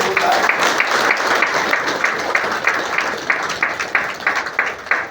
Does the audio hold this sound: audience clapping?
yes